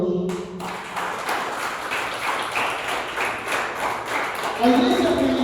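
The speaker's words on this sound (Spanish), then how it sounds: "Démosle un aplauso a Dios." A church congregation claps together in steady, fairly dense applause that fills the room for several seconds, heard at a moderate distance with voices mixed in underneath.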